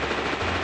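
A loud, close burst of rapid gunfire from a Malayalam film scene, lasting under a second.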